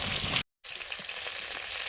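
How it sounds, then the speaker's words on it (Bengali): Fish frying in hot oil, a dense close crackling sizzle that cuts out abruptly for a moment before resuming steadily. "প্রথমবারে মাছগুলো ভাজা হয়ে গেছে"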